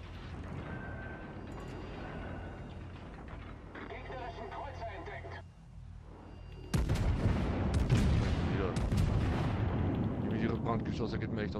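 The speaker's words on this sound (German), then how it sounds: "ich halte die Isokasa weiter unter Beschuss" Heavy naval gunfire from a Japanese battleship in World of Warships booms over a mechanical hum, with a loud salvo erupting midway and rumbling on, while a voice speaks throughout.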